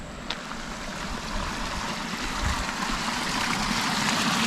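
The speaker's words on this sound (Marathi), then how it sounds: "हे पाटाचं पाणी आहे." Irrigation water runs steadily along a canal beside a paddy field, making a continuous, fairly loud rushing and trickling that stays even from start to end, with no talking.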